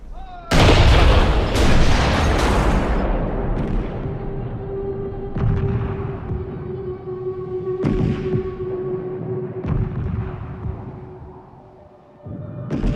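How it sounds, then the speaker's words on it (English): Huge WWI-era Krupp siege cannons fire one-ton shells in a series of heavy, deep booms spread across the stretch, each followed by a long rumbling decay. One loud blast comes near the start and more follow every few seconds. "they must bring in their huge Krupp cannons that fire 1-ton shells"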